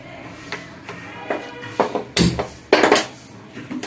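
Black peppercorns stirred dry in a pan for homemade rasam powder, giving scattered scraping and rattling clinks of a spoon against metal that grow louder toward the end, with no voices.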